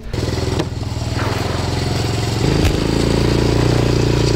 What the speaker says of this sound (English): Need to get the wagon out with the four-wheeler so I can tow this stuff around.